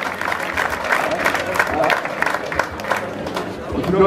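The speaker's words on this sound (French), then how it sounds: "Ils attendent les applaudissements du public!" Crowd applause and cheering from spectators at a sprint race event in Couëron, a dense steady wash of clapping mixed with chatter and a commentator's voice over it.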